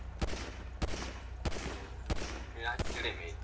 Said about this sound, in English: I'm gonna try shooting you.